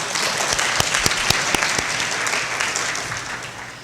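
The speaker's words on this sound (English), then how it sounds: "Can we get a round of applause?" An audience at a youth assembly screening applauds after a nature film about chimpanzees, a thick, loud wash of clapping with a few sharp standout claps, steady and then gradually easing.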